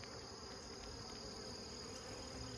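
Steady honey bee buzzing at an apiary on a late-July morning fills the clip, a continuous drone with a high whine on top, like many bees humming close by.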